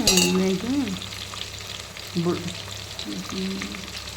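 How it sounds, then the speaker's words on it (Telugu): Vegetables sizzle and crackle in a pan while being stirred together, with brief tonal vocal sounds heard over the frying. "ఒకసారి మొత్తం కలుపుతున్నాను"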